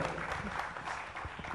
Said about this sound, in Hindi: सर के लिए एक बार जोरदार तालियों से स्वागत करेंगे।